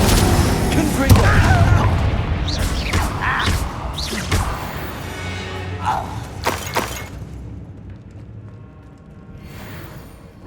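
A Confringo blasting spell going off in the video game Hogwarts Legacy: loud booms and shattering crashes in quick succession over dense game sound, with voices mixed in, fading toward the end.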